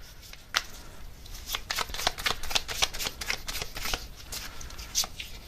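Tarot cards are shuffled and drawn by hand, a close, quick series of papery flicks and slaps in an irregular rhythm without speech.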